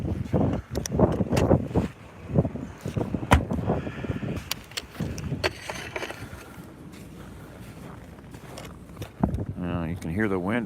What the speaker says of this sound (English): You can hear the wind, I think, can't you? Whew, it's blowing up here.